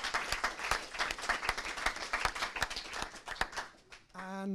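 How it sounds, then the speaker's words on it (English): An audience at a development discussion event claps for about four seconds, individual claps audible in an uneven, moderately close patter, then a voice begins speaking as it stops. "let's have a round of applause for everyone who's contributed."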